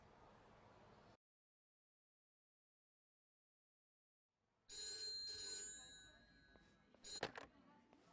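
A telephone rings in the video game Yakuza: Like a Dragon, a bright repeated electronic ringing tone that starts after a brief silence and goes on for several seconds with clatter around it.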